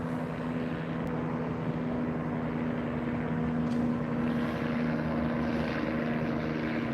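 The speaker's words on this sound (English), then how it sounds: "See the helicopter up there." A helicopter drones steadily overhead above a shopping center in The Villages, Florida, a constant distant rotor and engine hum with no one speaking.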